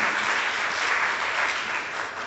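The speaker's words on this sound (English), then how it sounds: "Let's give Jeff a round of applause." An afternoon conference crowd claps for the arriving speaker, a dense, even wash of applause that fades slightly toward the end.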